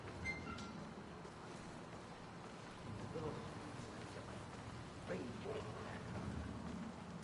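Steady rain falls in the Hitman VR Elusive Target mission set in Chongqing, a constant hiss with faint rumbles and small in-game sounds over it.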